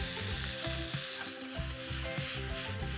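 Halved cherry tomatoes are squeezed into a hot pan for a smoked mussel ragu and sizzle steadily. A frying hiss sits over a background of soft music.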